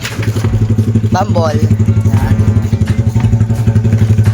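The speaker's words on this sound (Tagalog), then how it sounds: "Medyo maingay, pinainit ko si Bogart." A motorcycle engine warming up idles loudly and close with a fast, uneven thumping putter, while someone talks briefly over it.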